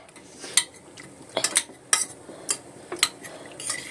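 Tomatoes and tamarind being mashed in a metal pot for rasam, a series of sharp clinks and scrapes from a utensil against the pot in irregular strokes, close and clear, no voices.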